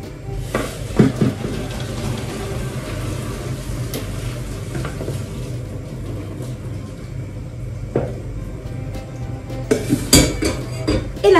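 Boiled peppers are drained from a pot in a home kitchen, with a steady watery rush and pouring hiss broken by metallic clanks and scrapes of the pot, fairly loud and close.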